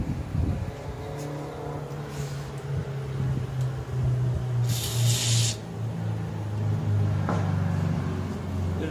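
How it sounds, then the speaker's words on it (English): WD-40 aerosol sprayed onto a corroded part of a 1975 Vanguard Citicar, one short hissing burst lasting about a second over a low background rumble, close by with no talk. "Let's hit it with some WD-40."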